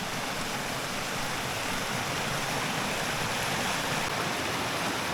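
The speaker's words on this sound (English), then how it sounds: "I can't remember the last time I saw this creek this high. We got a lot of rain." A swollen creek running high after heavy rain roars steadily and loud, a dense unbroken rush of water close by with no voices.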